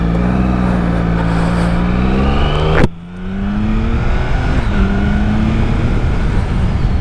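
Triumph Sprint ST motorcycle ridden on the road after a month unused, engine droning loud and close with rising and falling revs, a sharp gearshift break partway, then pulling again under wind rush.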